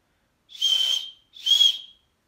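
A referee whistle is blown twice in two shrill, sustained blasts of about half a second each, with a short gap between them and nothing else heard.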